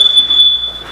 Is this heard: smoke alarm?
yes